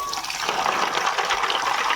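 Tap water running into a container holding frozen prawns that are stuck together as a solid block of ice, a steady gushing splash heard close up with no voices.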